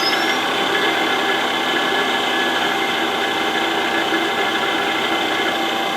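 A three-phase electric motor runs on a variable frequency drive at 60 Hz, about 1755 RPM, with a steady loud hum and whine that holds without change throughout and no voices.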